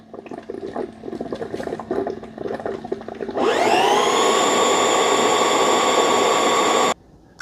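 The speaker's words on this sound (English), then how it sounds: "Now it's going to spin the brush rollers to kind of get some of the water off of them." A Dyson Wash G1 wet floor cleaner spins its brush rollers during its self-cleaning cycle: after a few seconds of quieter watery churning, a loud, steady high motor whine rises sharply and holds, then cuts off abruptly near the end.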